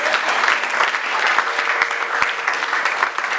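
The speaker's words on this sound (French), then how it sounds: "On acclame le Seigneur." A church congregation applauds and cheers at a French-language service, steady dense clapping that fills the room throughout, with voices mixed in.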